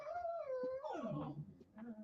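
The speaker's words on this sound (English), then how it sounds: "Dogs are needing to go out real quick." Dogs needing to go out whine and whimper with high, wavering cries and short howl-like yelps that slide up and down in pitch, close by and fairly quiet.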